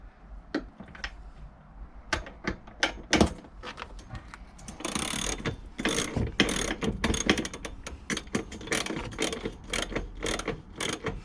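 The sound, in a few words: socket set ratchet with 19mm bit removing van seat bolts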